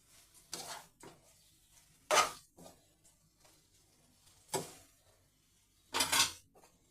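Onion egg masala curry stirred in a pan with a metal spoon, four or five separate scraping, clinking bursts separated by quiet gaps, close by.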